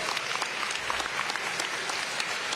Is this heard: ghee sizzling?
no